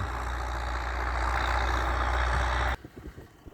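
A tractor engine runs under load during spring ploughing, a loud steady low diesel roar that cuts off abruptly near the end, leaving faint rumbles and knocks.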